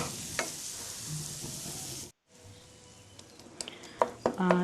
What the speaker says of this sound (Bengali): দিয়ে দিচ্ছি ভেজে রাখা ৫ ফোড়নগুলো, দিয়ে আবার খুব ভালোভাবে নেড়ে চেড়ে দিলাম